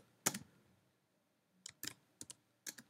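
Computer keyboard keys pressed while typing song lyrics into Sibelius notation software: a single sharp keystroke, a pause, then a quick cluster of four or five close, crisp clicks.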